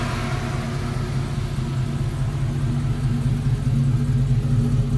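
A 1985 Chevrolet K10 restomod with a swapped LS3 V8 idles steadily, a deep, throaty low rumble that holds loud and even from start to finish with no talking over it.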